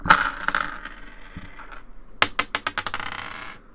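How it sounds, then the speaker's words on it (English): Dice tumbling and clattering across a tabletop during a Dungeons & Dragons game, a quick burst of sharp rattling clicks that bounce and settle, heard alone and fairly close. "Gotta roll a dice here."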